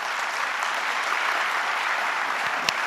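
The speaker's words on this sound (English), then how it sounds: "I believe they receive a round of applause." An audience at a town hall event applauds steadily and loudly throughout, a dense wash of many hands clapping with no voices standing out.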